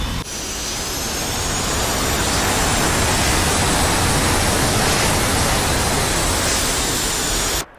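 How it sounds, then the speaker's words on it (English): An F-86F Sabre jet in the DCS flight simulator makes a low-power flyby, a loud, steady broadband roar with a thin high whine, holding near-constant for about seven seconds before cutting off abruptly. "Low power flyby."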